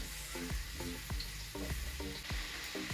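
Pork fries in a pan with garlic, onion and tomatoes, giving a faint steady sizzle. About five evenly spaced scraping or tapping strokes from stirring cut through it.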